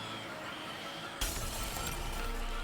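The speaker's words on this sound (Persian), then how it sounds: "شیشه ها شکست" Glass shattering in a video game: a single sudden crash of breaking glass follows a quiet stretch, with scattered debris and noise trailing on afterward.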